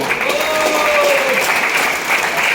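Loud, dense applause from a large crowd at a business plan seminar, a continuous wash of clapping with a faint tonal whine running through it.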